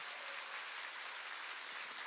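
Sustained applause from a church revival meeting audience fills the hall, a dense, steady clapping that stays loud and even throughout with no talk over it.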